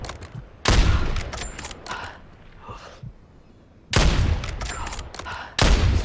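Gunfire in the video game Warzone: loud, close bursts of rapid shots in three separate volleys, with quieter background game noise between them.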